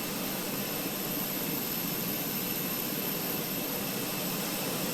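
A steady, loud whine and roar of an Airbus A320 auxiliary power unit in a flight simulator, running continuously at close range, with no change in pitch.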